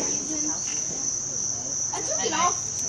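A cicada gives a steady, loud, high-pitched buzzing drone that runs unbroken throughout, with faint voices in the background.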